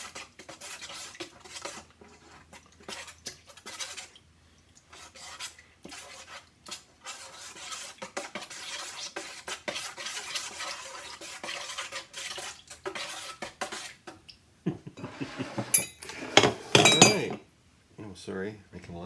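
Sourdough starter being stirred into water in a glass bowl, giving a busy run of scraping, clinking and knocking against the glass, close and fairly loud, with a sharper burst of clatter near the end.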